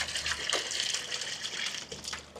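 Pond water pouring into a container during a pond fish harvest, a steady splashing gush with uneven bursts, moderately close and fairly quiet, with no voices over it.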